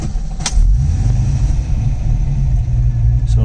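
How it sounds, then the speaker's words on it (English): Car engine idling with its electric radiator fan running at full speed under Holley EFI variable fan control, a steady low rumble with a constant whooshing drone throughout, no talk. "You can hear the fan a little bit maybe."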